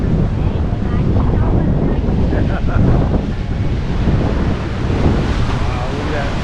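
Ocean waves and strong wind at Sebastian Inlet, a loud roaring rush of surf with heavy wind buffeting the microphone, continuous and close, with brief voices mixed in.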